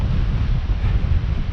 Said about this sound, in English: at least the wind's trying to blow us onto the cliff.